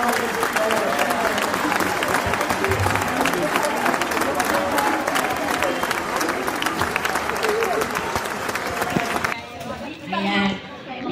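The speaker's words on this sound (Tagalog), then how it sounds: "Palakpak naman dyan." Classmates at a batch reunion clapping hard and continuously for several seconds, a loud crowd with chatter mixed in, then the applause drops away as voices talk.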